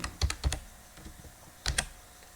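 Typing on a computer keyboard while clipping a Landsat satellite image with a shapefile in GIS software, heard as a few separate clusters of sharp, close key clicks with short pauses between them and no voice.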